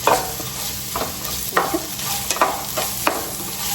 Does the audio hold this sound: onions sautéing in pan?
yes